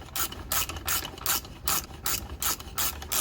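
A ratchet clicks in quick repeated bursts, about eight short strokes in a steady back-and-forth rhythm, close and clear, while bolts go into a Cummins transmission.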